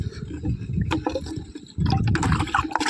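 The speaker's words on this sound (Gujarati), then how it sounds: "થઈ ગઈ મોટર ચાલુ. હવે પાણી ભરાઈ ગયા છે" Water gushes and gurgles from a running motor pump, a close, uneven splashing flow that dips briefly midway and then surges back louder.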